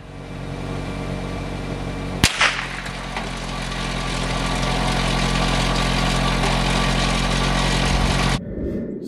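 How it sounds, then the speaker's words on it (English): Car engine running at idle some distance downrange at a shooting range, a steady low hum that carries through the whole stretch, cut by a single sharp rifle crack early on and stopping abruptly near the end. "we have a car running down there"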